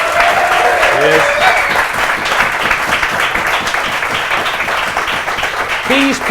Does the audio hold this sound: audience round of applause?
yes